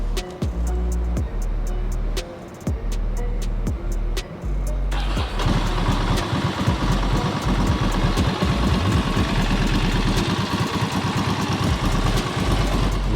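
A Ducati Monster S2R 800 motorcycle with a worn timing bearing turns over with a few cranking bursts, then catches and settles into a loud, close, uneven idle with an extra mechanical clatter.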